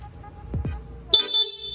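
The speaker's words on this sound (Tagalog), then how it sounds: "ito po yan, stock horn" A Honda Click V3 scooter's stock electric horn beeps briefly, a bright buzzy honk cutting in after a couple of quiet clicks and low thuds.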